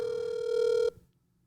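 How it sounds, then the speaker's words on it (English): A single telephone ring tone sounds loud and steady, close by, then cuts off abruptly partway through, leaving near silence. "when the phone just rings and rings and rings"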